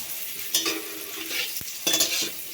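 Panch phoron, cardamom, cloves and cinnamon tempered in hot oil for a vegetarian potato and pointed gourd dish, crackling in short close sizzling bursts with stirring strokes between them.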